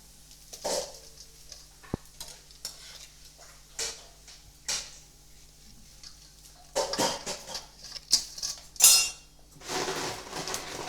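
A spoon scrapes and clinks against a bowl while bhaji batter for onion and potato fritters is mixed with turmeric and soda, with irregular knocks and taps spread over quiet stretches, close by and without talk.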